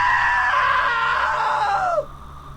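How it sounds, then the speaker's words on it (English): A character in What Remains of Edith Finch lets out a long, loud, shrill scream that holds steady and then drops off abruptly, leaving a low background hum. "Now that was a great scream."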